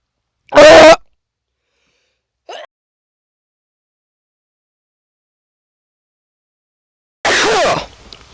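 Two loud sneezes, one near the start and one near the end, separated by a long silence with a faint sniff in between.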